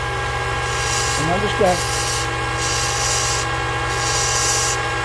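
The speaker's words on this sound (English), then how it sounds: "I'm going to do it with a belt sander here." A 1-inch belt sander grinds the end of a wooden dowel for a Christmas ornament, a steady continuous rasping hum with a brief change in pitch midway, running under a voice.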